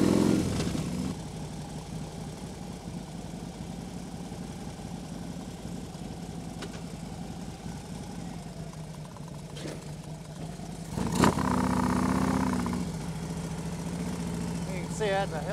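Motorcycle fitted with lowering kit and 3-inch travel shocks idling and rolling slowly, about 10 mph, over a 3.5–4 inch speed bump, steady low engine hum with a short swell as it crosses.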